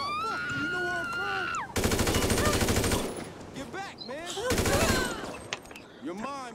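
Rapid automatic gunfire bursts in GTA 5, two loud sustained volleys of fast repeated shots, each lasting over a second, alternating with someone talking excitedly before, between and after them.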